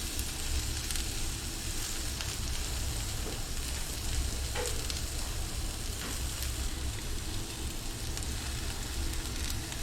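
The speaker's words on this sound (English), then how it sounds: "We're going to chuck in our onions and our chopped green chili." Onions and chopped green chili sizzle in a hot pan for a breakfast fajita filling, a steady, close, unbroken hiss of frying that holds at an even level with no talking.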